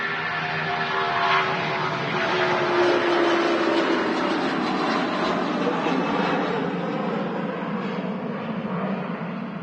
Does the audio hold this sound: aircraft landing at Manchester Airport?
yes